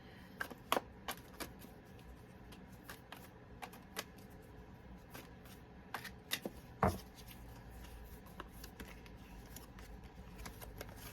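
Archangel oracle cards being shuffled and picked from a deck, with soft, scattered riffling clicks and light card taps at close range, faint and without talk.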